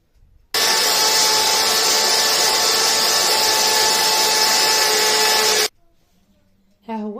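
An electric grinder milling oven-roasted almonds for sfouf, a loud steady whirring roar running about five seconds, then stopping; a short spoken voice follows.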